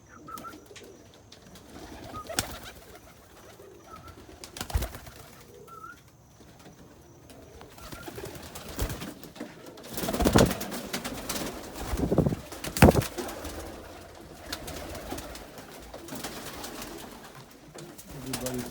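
Mookee pigeons coo in a loft, their soft calls coming and going among occasional wing flaps and rustling bursts, with a voice talking now and then.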